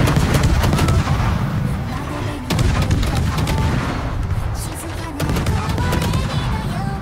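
Warship gunfire in World of Warships during a clan battle, with a battleship firing broadside salvos: loud, dense booming volleys and crackling shots, with sharp bursts near 2.5 and 5 seconds over a constant rumble.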